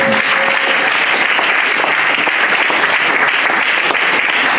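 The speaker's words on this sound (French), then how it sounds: "Est-ce qu'on peut acclamer le Saint-Esprit?" A church congregation claps and cheers loudly in a dense, sustained burst of applause that fills the room for several seconds.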